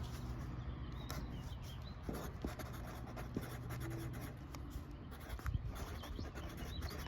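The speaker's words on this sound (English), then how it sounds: "Pencil's not writing very well." Pencil scratching across paper while farm planting notes are written out, a quiet, continuous dry scribble with small irregular strokes and no voices.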